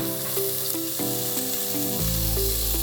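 Onions and garlic hit hot oil in a pan and set off a steady close sizzle that grows louder near the end, with a few light utensil taps mixed in and no speech.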